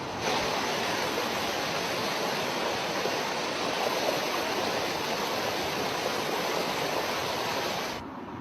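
Rapid river current rushing past a boulder weir under construction, a loud, steady broadband roar of turbulent water that holds constant before dropping off near the end.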